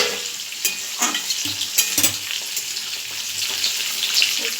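Potato and pointed gourd curry bubbles and sizzles in a pan at a steady moderate level, with occasional soft clicks of stirring and no voices.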